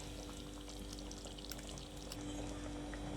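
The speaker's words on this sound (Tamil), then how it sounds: "இப்போ வந்து நம்ம தேங்காய் சேர்த்துக்கலாம்" Coconut paste is poured into a simmering dry fish curry, a soft wet pouring and trickling sound over a low background hum, fairly quiet and continuous for a few seconds.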